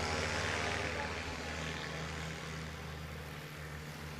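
A STOL competition airplane on its takeoff run, a loud, steady propeller engine drone with a low throbbing hum, heard throughout without a break.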